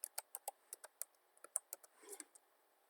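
Short command typed on a computer keyboard, about fifteen distinct key clicks in a quick uneven rhythm, close and quiet with nothing else heard.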